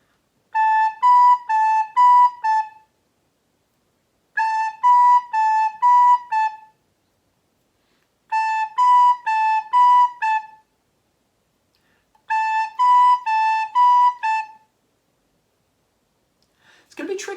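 A recorder plays a short rhythmic note pattern four times, each burst about two seconds long with clear gaps between, bright and close, and a brief noise at the very end. No backing track is audible.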